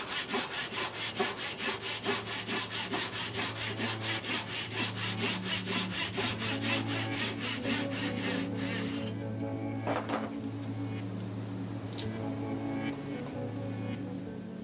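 Hand sawing through wooden pieces to split them in two, a loud near rhythmic back-and-forth rasp of about two strokes per second for nine seconds, then stopping to leave a steady background hum with a couple of knocks.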